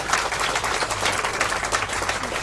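Applause from an audience of charity volunteers greeting Meghan's speech, a steady dense wash of clapping hands throughout, evenly loud with no voices over it.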